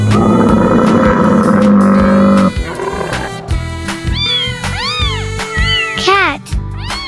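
After a rumbling start, a cat meows several times in a row, close and clear, with rising and falling cries.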